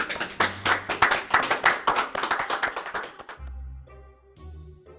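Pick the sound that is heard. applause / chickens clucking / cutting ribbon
applause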